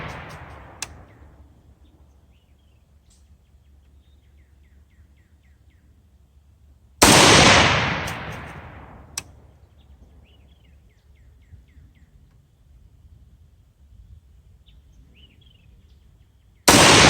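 Two loud, sharp rifle shots from a Romanian PSL fired outdoors, spaced far apart, each with a long rolling echo that fades away, and a third blast starting at the very end; faint birdsong between shots.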